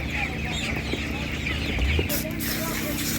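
Laying hens clucking in a dense, steady chorus at an outdoor animal market, close and continuous, with a brief knock or bump near the middle.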